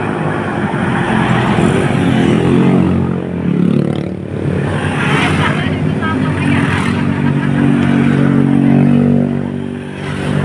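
Motorcycles and other vehicles rumble and rev past on a road in Tanay, Rizal, engines swelling and fading, with voices talking over the traffic.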